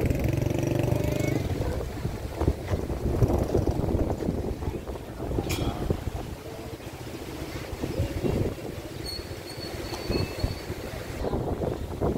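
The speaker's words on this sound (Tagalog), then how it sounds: "Lakas ng hangin." Steady, loud wind buffeting the microphone at a dam in Arayat, Pampanga, roaring and rumbling throughout with gusty low-end noise and no voices.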